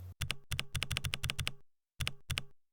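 Quick bursts of computer keyboard typing as a new entry is entered in a software editor, a dense run of close, crisp keystrokes followed by a pause and two final taps.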